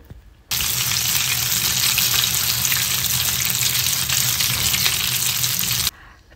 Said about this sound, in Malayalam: അപ്പോൾ അങ്ങനെ അത് എണ്ണയൊക്കെ ചൂടായി വന്നപ്പോഴത്തേക്കും ഞാൻ അത് ഇട്ട് കൊടുത്തിട്ടുണ്ട് ഒരു രണ്ട് മൂന്ന് മിനിറ്റിനുള്ളിൽ തന്നെ ഫ്രൈ ആയിട്ട് വന്നോളും